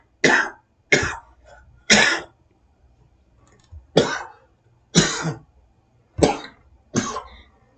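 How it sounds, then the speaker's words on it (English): A man's coughing fit, seven sharp coughs spaced about a second apart with short pauses between, close and fairly loud, with no talk. "Excuse my cough"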